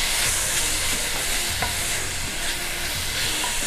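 Vegetables for a vegan dish cooking until soft in a pan make a dense, continuous sizzle, with faint stirring sounds underneath and no talking.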